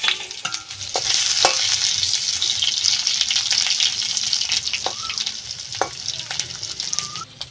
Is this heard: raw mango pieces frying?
yes